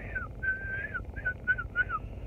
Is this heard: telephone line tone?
no